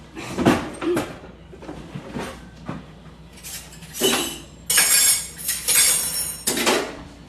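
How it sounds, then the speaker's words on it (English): Metal spoons and cutlery clink and rattle against dishes in a kitchen while a hot crab dip is being prepared, a run of sharp, close, irregular clatters with short pauses between and no talk. "let me get a spoon"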